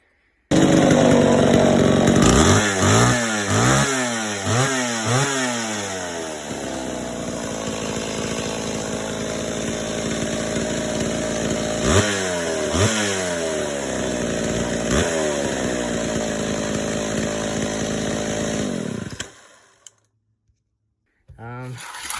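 Old two-stroke chainsaw with a possible carburetor issue revs in several quick bursts, then settles into a steady loud idle with a few more throttle blips before cutting off into silence.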